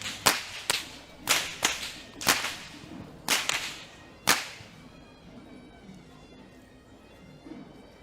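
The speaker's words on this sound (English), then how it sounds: "And today, the group of whip crackers is led by Mr. Upali Jayaratna." Whips cracked by performers at the Kandy Esala Perahera procession in Sri Lanka: a rapid series of about eight sharp, loud cracks in uneven rhythm over the first few seconds, then a fainter crowd murmur.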